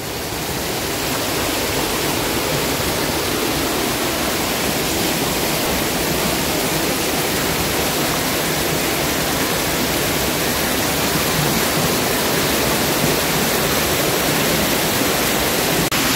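A waterfall on a little-known river in Mercedes Umaña, Usulután, roars loudly and steadily, a dense unbroken rush of falling water with no voices.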